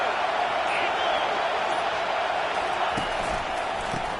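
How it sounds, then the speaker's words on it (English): Football stadium crowd roaring on a third-down defensive stand, a dense continuous wash of distant cheering with a few faint thumps. "Decibels rising as the crowd gets behind this defense on third down."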